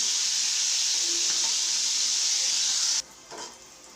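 Dried fish frying in hot oil gives a steady, loud, close sizzle that cuts off abruptly, leaving a faint clatter afterward.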